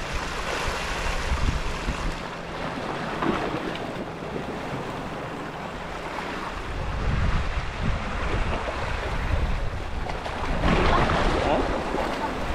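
Strong wind buffets the microphone at sea aboard a small fishing boat, with waves washing and surging in uneven bursts, while a voice talks at times over the blustery roar.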